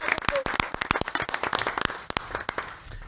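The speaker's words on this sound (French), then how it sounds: "On peut applaudir." Audience applause on a French night-time television show, a burst of sharp, irregular hand claps from a small group that thins out and fades toward the end.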